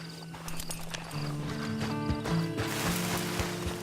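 Horse hooves clip-clopping at a walk in the video game Red Dead Redemption 2, a steady close rhythm of hoofbeats over tonal game ambience and background music.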